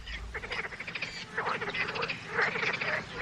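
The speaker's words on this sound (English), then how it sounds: "The frogs and birds of the vast wetlands of Iran." Frogs croaking in the vast wetlands of Iran, a dense chorus of repeated rasping calls rising and falling, with birds mixed in, heard alone.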